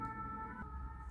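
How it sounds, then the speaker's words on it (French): Emergency vehicle siren passing outdoors, a steady wailing tone with layered pitches that shifts partway through, moderately loud with no talk over it. "On va couper parce qu'il y a la sirène."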